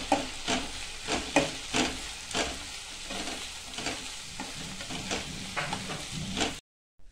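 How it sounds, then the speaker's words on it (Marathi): Chopped onion and tomato with soaked melon seeds and cashews are sautéed in a pan for a dhaba-style paneer masala. A spoon stirs and scrapes in a steady rhythm over a soft sizzle, with no talking. "मगज बी आणि काजू भिजून घेतले होते ते पण याच्यात टाकून परतून घेऊ"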